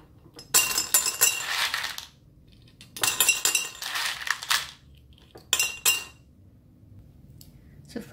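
Dry chana dal lentils poured into a glass bottle for layered bottle art, giving three separate bursts of bright rattling and clinking, the grains skittering against the glass, each lasting one to two seconds with quiet gaps between.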